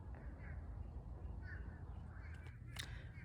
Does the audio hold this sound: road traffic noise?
no